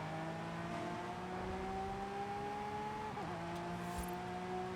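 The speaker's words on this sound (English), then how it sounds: "It's got the same V12 as every other car in this game." A V12 race car engine in Forza Horizon 5 holds a steady, fairly faint droning tone that shifts pitch slightly as it changes gear partway through, with no talking.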